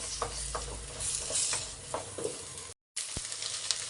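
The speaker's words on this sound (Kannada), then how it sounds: "ಚೆನ್ನಾಗಿ ಎಲ್ಲ ಫ್ರೈ ಆಗಿದೆ, ಮೊಟ್ಟೆ ಎಲ್ಲ, ಮಸಾಲೆ ಎಲ್ಲ." Eggs and masala sizzle and fry in a pan over a low flame while being stirred, a steady close crackle broken by scraping strokes and one brief gap.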